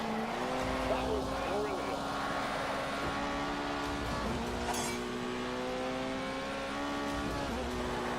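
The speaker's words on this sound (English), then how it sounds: "This particular bit is about drifting around the corners to get essentially drift points." In The Grand Tour video game, a Porsche's engine drones steadily with shifting pitch while it drifts through corners. Brief tire squeals cut in, and someone talks over it throughout.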